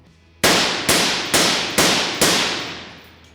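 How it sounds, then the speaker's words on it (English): Five suppressed 5.56 rifle shots through an Irregular Defense 556UK suppressor, fired outdoors side by side: loud, sharp cracks spaced about half a second apart, each with a short decaying tail. "we're just gonna be shooting side by side and then swapping places to see if we can get a little bit of a tone or just comparison for how these two sound"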